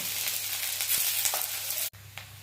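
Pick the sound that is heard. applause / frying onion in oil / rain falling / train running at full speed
frying onion in oil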